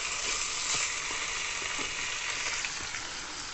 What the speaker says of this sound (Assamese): এনেকৈ আমি এইখিনি মাংসখিনি 10-15 মিনিটমান ভালকৈ ফ্ৰাই কৰিব লাগিব